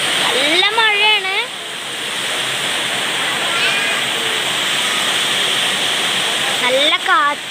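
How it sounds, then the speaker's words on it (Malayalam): Heavy rain pours steadily in a misty early-morning downpour, a dense continuous roar of water with wind, while a person talks over it at a few points. "നല്ല മഴയാണ്."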